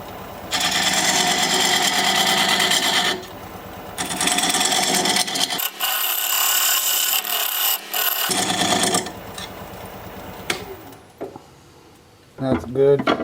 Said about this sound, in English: that's this diamond point tool to square up the sides of the tenon